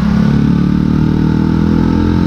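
A Honda Little Cub motorcycle engine runs close by with a steady, loud, low putter and a faint mechanical clatter, holding an even idle-like throb throughout with no voices.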